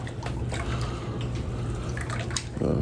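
A watercolor paintbrush dipped and swished in a cup of rinse water, producing continuous light sloshing and dripping with small splashes, close and fairly quiet, with a fuller watery burst right at the end; no voices.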